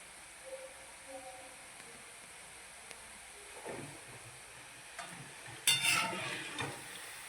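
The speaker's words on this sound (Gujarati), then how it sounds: "થોડીક વાર એને ફેરવવાના છે આપણે થોડીક વાર ચડવા દે ધીમો ગેસ કરી દઈશું" Gathiya, a Gujarati gram-flour snack, frying in oil in a pan over a low gas flame, with a soft steady sizzle, occasional stirring scrapes and a louder burst of bubbling and turning near the end; no one speaks.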